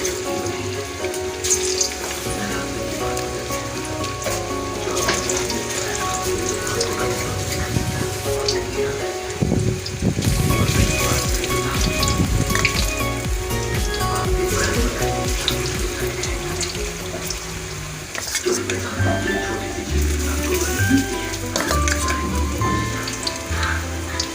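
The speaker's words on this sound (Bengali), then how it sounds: "এবার আমি কড়া বসিয়েছি, তেল গরম হচ্ছে, এগুলোকে আমি আস্তে আস্তে করে ভেজে নেব" Steady sizzling and crackling of soybean chunks frying in hot oil in a wok, continuous and close, with occasional clinks of a utensil against the pan.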